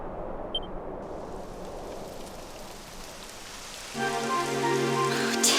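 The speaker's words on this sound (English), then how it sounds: "Typical. It would have to go and start raining, wouldn't it?" Rain falls steadily in the video game Dragon Quest XI, a continuous hiss of drops with a short sharp tick early on, then a tonal music-like swell joins the downpour near the end.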